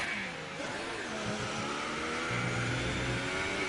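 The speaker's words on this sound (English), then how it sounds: "only on Springbok Gamer's car does it sound like he's stuck in gear" Race car engine in F1 2018 at Abu Dhabi, a Mercedes that sounds stuck in gear, droning at a steady, unchanging pitch with a dense, continuous roar and no voices.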